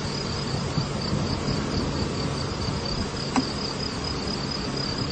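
Honey bees crowd an open beehive among comb where young bees have hatched and cells are refilled with honey, giving a steady, dense insect hum with a thin high whine throughout, close and unbroken, with no voices.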